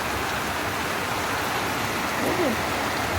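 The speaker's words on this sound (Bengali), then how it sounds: "মুসল ধারে বৃষ্টি হচ্ছে" A heavy downpour pours steadily outside a home, a loud, unbroken wash of rain noise with a faint voice briefly rising partway through.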